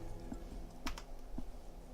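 A few sharp clicks from a computer mouse buying writing lessons in the game ESO, spaced irregularly over steady low background hum.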